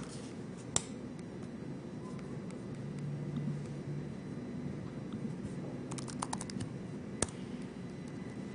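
Rapid typing on a laptop's butterfly keyboard, a steady patter of close, crisp key clicks with a few sharper clacks, heard alone against faint room noise.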